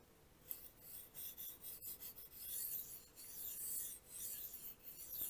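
A BPS Knives Savage bushcraft knife being sharpened on a Suehiro whetstone, with steady repeated rasping strokes of the blade across the stone, close and fairly quiet, several passes in a row.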